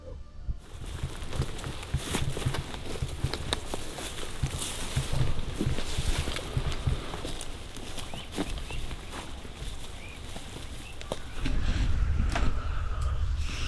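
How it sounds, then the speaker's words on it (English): Wind blows steadily across an open field in Florida during a turkey hunt. It makes a constant low rumble and rush against the microphone, swelling slightly in gusts, with no distinct voices. "the wind's kind of blowing a little bit"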